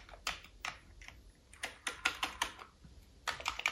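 Keys clatter on an Amiga 600 keyboard, several of them faulty, in quiet irregular bursts of close clicks with short pauses between.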